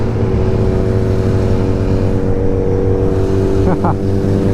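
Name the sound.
Kawasaki Z900 motorcycle engine roaring at speed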